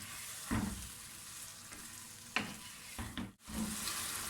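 Sindhi biryani masala sautéing in a pan on a medium-high flame, a continuous sizzle broken by a few scraping stirring strokes.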